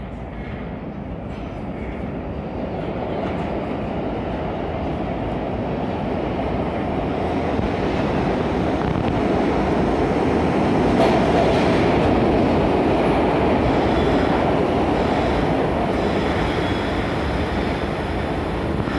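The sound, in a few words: SEPTA Broad Street Line southbound express subway train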